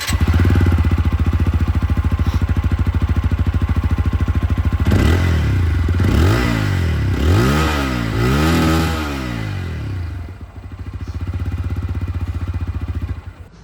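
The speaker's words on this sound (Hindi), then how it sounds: "इसकी जो एग्जॉस्ट साउंड है वो भी सुना देता हूँ।" Exhaust note of a 160cc motorcycle, heard close and loud: a steady idle, then several sharp throttle blips that rise and fall in rhythm before the engine settles back to idle.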